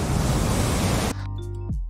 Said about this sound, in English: we took some existing water sounds